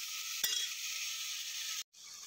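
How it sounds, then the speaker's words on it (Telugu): Chopped tomato pieces sizzle and fry steadily in a pan for a curry, with one brief clatter near the start and a short drop to silence near the end; no one speaks. "మనం ముక్కలుగా కట్ చేసుకున్న టమాటా ముక్కలు కూడా వేసేస్తున్నాను"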